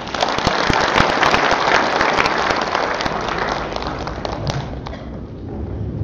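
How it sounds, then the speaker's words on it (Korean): Loud, dense applause from an audience at the opening ceremony of an international Buddhist studies conference, a steady wash of many hands clapping with sharp individual claps, easing slightly toward the end. "역대 회장님과 회원님들께 다시 한번 큰 박수 부탁드립니다."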